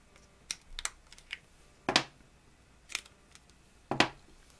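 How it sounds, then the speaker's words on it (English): Batteries come out of a Flip Ultra camera in a handful of sharp plastic clicks and snaps, spaced about a second apart, close and fairly quiet with no talk. "And we can take the batteries out."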